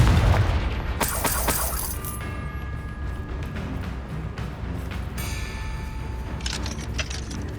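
Confringo fire spell explosions in Hogwarts Legacy: a loud blast at the start, a second burst around a second later, then metallic chiming and tinkling tones ringing over a low rumble.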